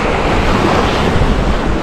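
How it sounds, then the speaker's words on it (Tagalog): Strong wind roars across the microphone at a seaside fishing spot early in the morning, a steady dense rush blended with crashing surf, loud and unbroken. "Medyo malakas yung hangin sa aking kanan"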